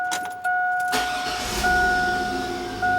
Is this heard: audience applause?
no